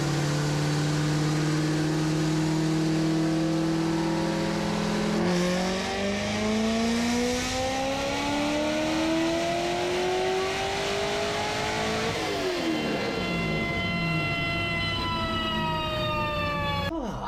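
A tuned car engine with a large blow-off valve revs hard on a dyno, its pitch climbing and falling across several long pulls, loud and close, with no talking.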